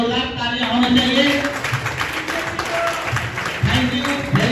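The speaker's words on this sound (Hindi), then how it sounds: "मदन सर के लिए जोरदार तालियां होनी चाहिए" Loud applause for Madan sir at an achievers' celebration at a resort in Rajgir: a sustained burst of crowd clapping with some voices mixed in.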